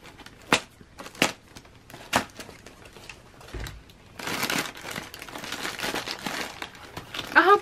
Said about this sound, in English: I hope this crinkling noise don't bother y'all.